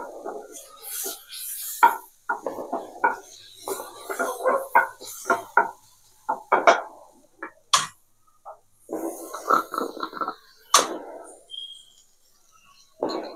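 Tomatoes go into a pan with onions and are stirred, giving a series of scraping and clinking spatula strikes against the metal, close and intermittent, with bits of sizzle between.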